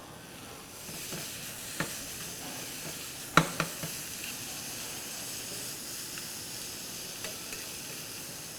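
Wild forest mushrooms, including morels, sauté in a pan with a faint, steady sizzle and hiss. Occasional sharp taps come from a utensil moving them around.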